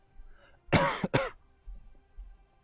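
A person imitates two quick, raspy coughs of a dying skeleton during a tabletop role-playing game session, close and fairly loud, followed by quiet.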